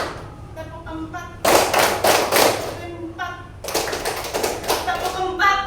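Children in a classroom counting game clap in unison, in two rhythmic bursts of claps separated by a pause, while a teacher's voice calls out the count between and under the claps.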